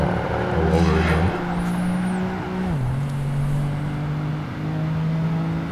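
A sports coupe engine from Project Gotham Racing 2 drones steadily at a sustained pitch, with gear-change shifts and a dip in revs partway through and a brief tire squeal early on, loud and close throughout.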